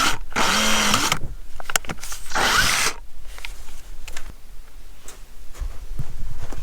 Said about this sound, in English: And I'm going to drill a small hole in here first.